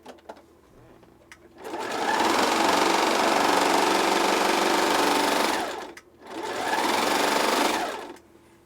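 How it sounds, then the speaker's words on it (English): A serger sewing machine stitches and trims four layers of fabric in two fast, loud whirring runs, a longer one and then a shorter one, separated by a brief pause, with no talking. "we're going to do 4 layers of fabric to make sure the knife is cutting the way it should."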